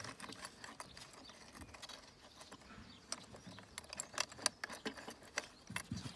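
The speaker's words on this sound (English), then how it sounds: "Retighten those three screws." Screws being retightened on a Yard Force x50i robotic lawn mower, heard as a run of faint, irregular metallic clicks and ratchet-like ticks from close by, with no talking.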